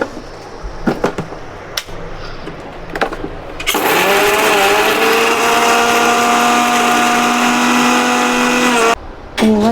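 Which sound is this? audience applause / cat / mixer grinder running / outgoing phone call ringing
mixer grinder running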